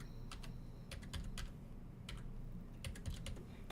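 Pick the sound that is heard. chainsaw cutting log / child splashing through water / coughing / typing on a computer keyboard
typing on a computer keyboard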